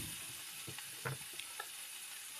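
Red amaranth greens hitting a pan of hot oil with fried garlic, giving a faint, steady sizzle with a few soft stirring clinks and pops.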